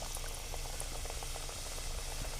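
Papad vadi pieces drop into hot oil in a large kadhai and fry with a steady, close bubbling sizzle that continues without pause, no voices over it.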